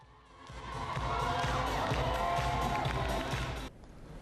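Crowd cheering athletes from the sidelines at the Special Olympics in Pyeongchang, a sustained wash of distant voices and applause that swells, holds, then cuts off abruptly.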